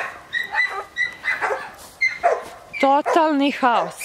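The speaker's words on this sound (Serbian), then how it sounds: "ovi kučići samo laju" Small puppies bark and yip in short, high-pitched bursts, close and loud, with whimpering in between, while someone talks over them.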